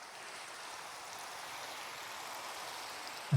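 Steady rainfall in a video game, a soft even hiss of falling drops that stays faint and unbroken throughout, with one brief low knock near the very end.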